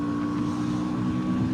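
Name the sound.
KTM Duke 160 motorcycle engine accelerating during ride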